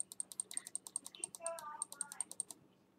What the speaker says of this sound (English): Sorry if you guys are hearing my mouse click so loud.